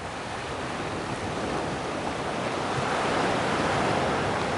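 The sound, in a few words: big ocean waves on a beach in Goa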